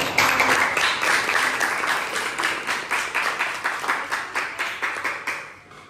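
A small group claps together in a classroom, the applause starting busy and then settling into a steady, rhythmic beat that slowly fades out.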